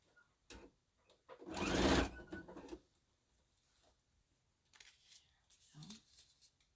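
A Husqvarna Viking Designer Epic 2 sewing machine stitches a drawstring bag in a short loud burst, with fainter stitching and handling sounds later and quiet talk nearby.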